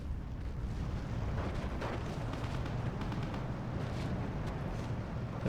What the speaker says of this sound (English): There's a rocket barrage